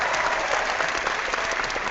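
Studio audience applause from a live crowd, dense continuous clapping that stays loud and steady for about two seconds with no voices above it.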